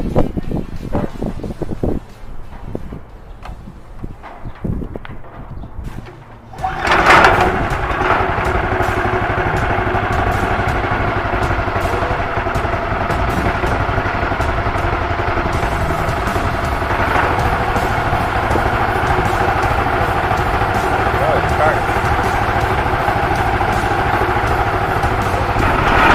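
A 420cc engine on a rat rod go-kart cranks over and catches after several seconds of quieter handling noise, then settles into a steady, loud, continuous idle that runs close and unbroken to the end.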